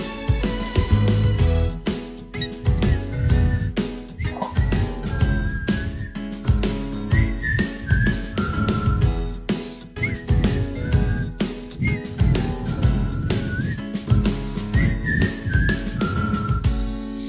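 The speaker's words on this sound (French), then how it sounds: "Les enfants, vous allez siffler." Children whistling a melody together along with music, the bright whistled tune rising and falling over a full instrumental backing with a steady beat, continuous and moderately loud.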